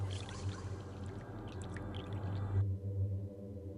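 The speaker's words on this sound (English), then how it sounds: "There's a lot of water in that bottle." Water sloshes inside a bottle in the ghost-hunting game The Lost Crown, a gurgling, bubbling pour with low hollow tones that stops abruptly partway through, leaving a low hum.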